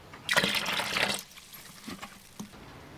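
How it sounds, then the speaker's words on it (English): Mordant liquid pours briskly for about a second into a plastic vessel with a bright splashing gush, then a few small drips and knocks follow in a quiet room. "we're going to pour it into the plastic vessel"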